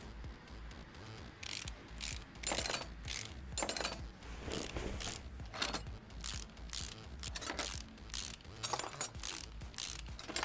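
Ratchet wrench clicks in the Car Mechanic Simulator video game during a car repair. Repeated short, crisp bursts of ratcheting are spaced irregularly over a quiet mechanical background, with no talking.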